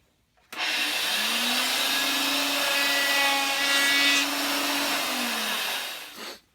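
A router with a 1/4-inch roundover bit shapes wood in a loud, steady, high-pitched whine lasting about six seconds. It starts abruptly, dips slightly under load, then winds down. No voices are heard.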